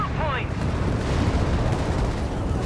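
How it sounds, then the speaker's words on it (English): Strafing-run gunfire in Company of Heroes 3 roars as a dense, continuous barrage with rumbling blasts, loud and sustained beneath game ambience. "Got some strafing runs called in there"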